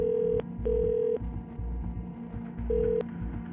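A telephone rings on a call in a Hindi crime audio drama: short, steady electronic tone bursts come in a repeating pattern over a low background bed, with no speech.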